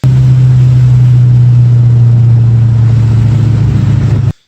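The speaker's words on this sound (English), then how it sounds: "So finally I'm doing a review on my exhaust." A 2005-2009 Ford Mustang GT V8 with MBRP muffler deletes and an X-pipe holds a loud, steady, deep exhaust drone at high revs, close up, before cutting off abruptly.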